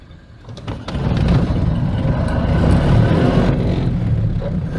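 Ford Model A four-cylinder engine idling steadily at low speed, a continuous rumbling low drone heard up close with no talking.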